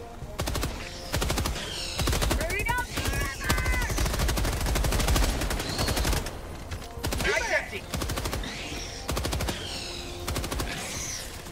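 Rapid bursts of automatic gunfire from a co-op action video game, sustained and loud through most of the stretch with brief gaps, while players talk over the shooting.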